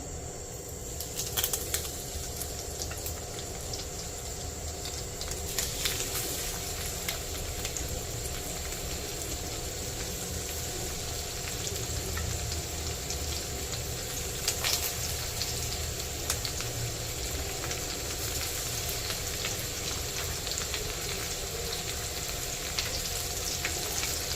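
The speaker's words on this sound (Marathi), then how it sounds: "आता आपण हे बोंबील तव्यामध्ये फ्राय करायला सोडूया तेल चांगलं तापलेलं आहे" Bombay duck (bombil) fish frying in well-heated oil on a flat pan over a gas flame, with a steady, dense crackling sizzle that holds evenly throughout and a few sharper pops.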